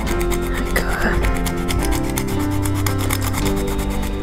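Parmesan cheese grated by hand for carbonara pasta, a steady close rasping scrape repeated in quick strokes throughout, with no talking.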